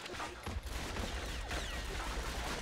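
Gunfire in the World War II shooter Call of Duty: Finest Hours during a Western Front firefight at a bridge, heard as scattered, fairly faint shots over a dense rumbling battle background.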